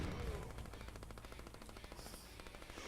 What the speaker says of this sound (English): We've got a gun turret.